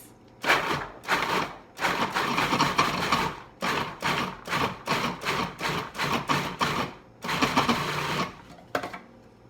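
A food processor pulsing chickpeas whirs in a series of short, loud bursts, roughly a dozen pulses in quick succession with brief pauses between.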